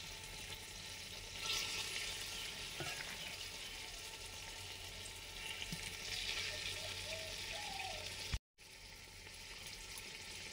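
Soya chunks and potato gravy in ghee for a soya biryani, sizzling and frying in a steady hiss that stays continuous and close throughout, with a brief dropout near the end.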